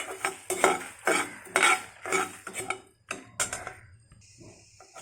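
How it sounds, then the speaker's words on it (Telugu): Mustard seeds fry in a pan for methi rasam while a spoon stirs them, making repeated bursts of clattering, scraping metal with short pauses between strokes. "ఆవాలు, వేసి వేయించుకోవాలి."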